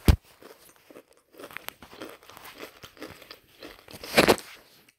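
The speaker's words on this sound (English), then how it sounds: "I'm just eating some Doritos right now" Crunchy Doritos chips being eaten close up, with a sharp opening crunch, then soft scattered chewing and crinkling and a louder crunchy bite near the end.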